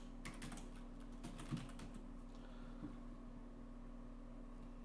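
Soft, irregular keystrokes on a computer keyboard tap through a steady low electrical hum, quiet and close, with a few slightly louder clicks and no voices.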